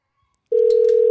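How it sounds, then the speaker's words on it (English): A telephone line sounds during a call back: after a brief silence, a single steady tone starts abruptly and holds loud and close, with no voices. "Let me call him back."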